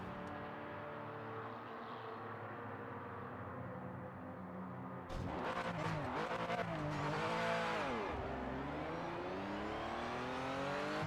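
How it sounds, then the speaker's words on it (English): A racing car in the video game Project Motor Racing approaches over a steady engine drone from the player's own car, its revving engine rising and sweeping in loudly from about five seconds, with pitch shifts as it closes in. "Oh, there's a car coming."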